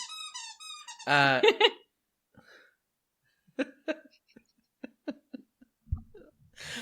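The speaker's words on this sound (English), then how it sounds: "that was the loudest set of squeaks" A burst of loud, high, piercing squeaks rings out, followed by a quiet pause and then a scattering of shorter, fainter squeaks and clicks spread across the remaining seconds.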